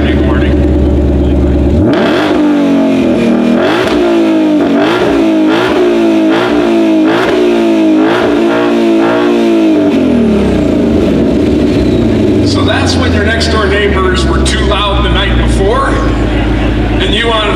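A 2020 Ford Mustang Shelby GT500 at the Carlisle show fires up loudly, then its engine is revved in a rapid series of sharp blips before it settles back to a rumbling idle while background noise from the surroundings rises.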